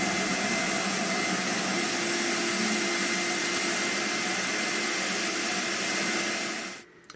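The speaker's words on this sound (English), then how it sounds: "That shop vac hose is just too small," A shop vac runs steadily and loudly with a broad, constant whine and a faint tonal hum, then cuts off near the end as the motor spins down.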